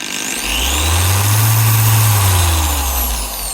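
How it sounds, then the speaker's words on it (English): A DA9 dual action polisher spins up with a deep, rumbly hum that swells over the first second, holds steady and loud, then begins to fade, with a faint whine above. "So you get a bit more of a rumbly sound"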